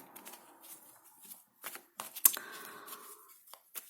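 Tarot cards are handled and laid out in a quiet room, soft papery slides and taps in short, separate bursts.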